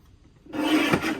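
A paper trimmer slices through a sheet of scrapbook paper in one short, close scraping swipe after a moment of quiet.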